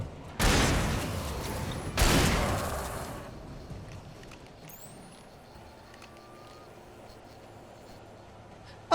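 Pump-action shotgun in Alan Wake firing two loud blasts about a second and a half apart, each trailing off into a long decay before a quiet, faintly rumbling stretch.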